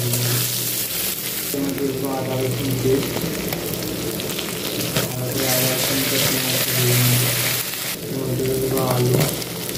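Whole cumin seeds fry in hot oil in a wok, a constant close crackling sizzle with brief stirring scrapes, while a voice speaks intermittently over it.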